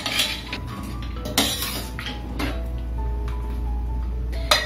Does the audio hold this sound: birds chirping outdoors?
no